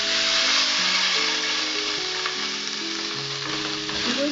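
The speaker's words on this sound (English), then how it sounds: "The cumins have started to splutter." Cumin seeds spluttering in hot oil in a pan: a steady, dense sizzle with crackling pops that continues throughout, close and fairly loud, with a faint background hum and no talking.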